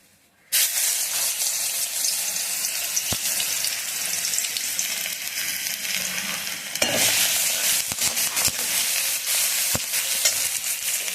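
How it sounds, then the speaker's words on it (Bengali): Garlic and green chili hit hot mustard oil in a heated kadai: after a brief silence a loud, sudden sizzle bursts up and hisses steadily, with occasional sharp stirring clicks and no talking. "কড়াই গরম হয়ে গিয়েছে তেল দিয়ে দিয়েছি সর্ষের তেল এবার হচ্ছে লঙ্কা রসুনটা ফোড়ন দিয়ে দেবো"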